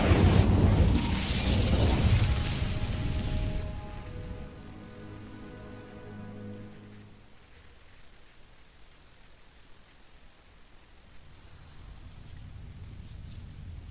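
In the video game Hogwarts Legacy, an Incendio fire spell sets dry vines alight with a loud, broad whoosh and roar that fades into a lingering crackling hiss under a soft tonal score.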